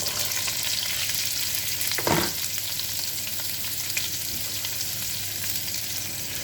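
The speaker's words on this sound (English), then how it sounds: "We're going to cook the green beans for about 5-6 minutes, depending on how fresh the beans are" Fresh green beans frying in a pan give a loud, steady close sizzle, broken by a brief stirring rustle partway through.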